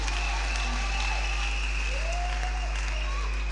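A church congregation applauding in a steady, dense wash of clapping that runs throughout, with a low hum underneath and faint voices in the mix.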